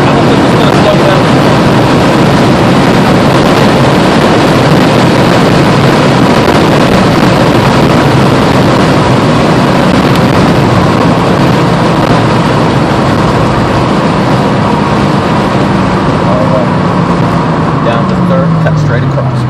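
A Mercedes AMG C55 engine roars steadily at speed on the Summit Point race track, a loud, dense drone with road and wind noise filling the cabin and voices talking over it.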